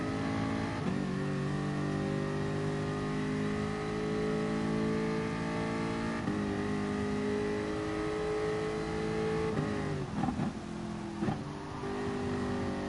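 A GT race car engine in a racing video game at the Red Bull Ring, droning loudly with rising and falling revs, a couple of downshifts with quick rev blips, no voices.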